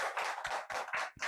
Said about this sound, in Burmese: လက်ခုပ်တီးပြလိုက်ပါဦး